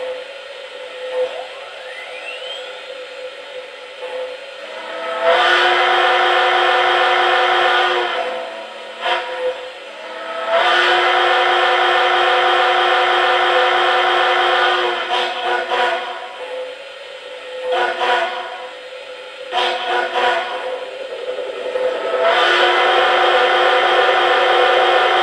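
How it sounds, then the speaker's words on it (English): Steam whistle on an Uncharted J model train locomotive, sounding in several long, steady blasts with short gaps between them, each a deep, rich, multi-toned chord against a quiet layout background. "let me start it up and show you the new whistle."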